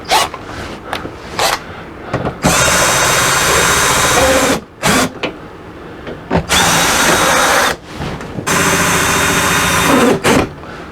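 A power drill runs AC unit bolts in while a Dometic air conditioner is replaced, whirring loudly in several long bursts separated by brief pauses, with short clicks and shorter spins between runs.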